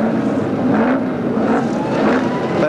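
Racing cars at Calder Park in 1983, the field roaring away from the grid at a race start, with a Mustang on the front row: a dense, sustained engine drone that swells and fades in waves, loud and close with no talk over it.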